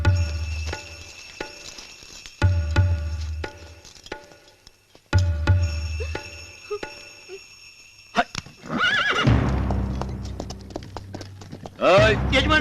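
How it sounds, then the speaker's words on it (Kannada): A horse harnessed to a village cart whinnies and its hooves clop in short rhythmic bursts amid crickets, while people talk nearby in a film scene. "ಕುದುರೆ ಕಣ್ಣು ಕಟ್ಟು."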